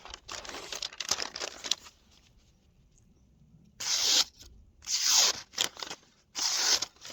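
Tactical Bowie survival knife slicing through paper after heavy use, several crisp crinkling, tearing strokes in close bursts separated by quiet pauses, no talking.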